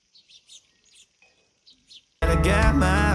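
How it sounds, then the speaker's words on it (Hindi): A house sparrow in a Himalayan hometown in Didihat, Uttarakhand chirps in several short, quiet, spaced bursts before loud music suddenly takes over. "गौरैया"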